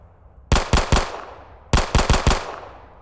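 Gunshots from an SCP horror video game ring out in two sharp bursts, first three quick shots and then four, each loud and punchy with a short decaying tail.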